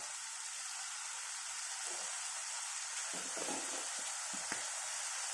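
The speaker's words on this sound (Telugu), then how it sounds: "ఇలాగా బాగా ఫ్రై చేసుకోవాలి చూడండి ఇలాగా ఆయిల్ వచ్చేసింది ఇంకా కొద్దిగా ఫ్రై చేద్దాం" Chilli greens and fenugreek leaves fry in hot oil with a constant bright sizzle, broken by a few soft scrapes and taps of stirring near the end, with no voices.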